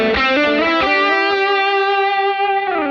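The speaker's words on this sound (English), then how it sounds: "my overdrive with delay." An overdriven electric guitar through a Line 6 Helix plays a few quick notes, then holds a sustained, gritty tone with repeating delay echoes trailing behind it.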